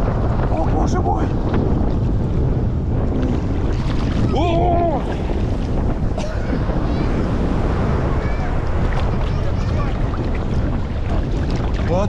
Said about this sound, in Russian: Ох, океан, сильная вещь. О, видим волну.